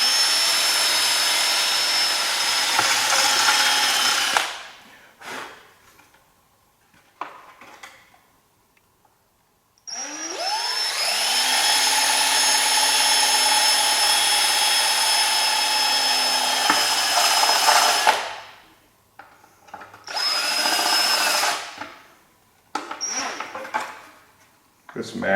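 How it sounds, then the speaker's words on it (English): A power drill bores mounting holes through a Hotbodies Racing race fender on a Honda CBR1000RR, running in two long loud bursts and a short third, with brief pauses between. "We're just going to drill and go."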